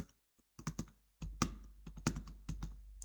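Typing on a computer keyboard during an Excel exercise, with short irregular bursts of close, crisp key clicks separated by brief pauses, no voices.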